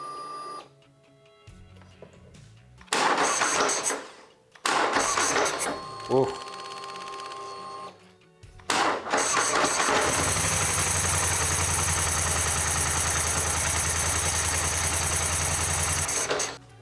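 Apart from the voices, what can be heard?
ATV engine starting and idling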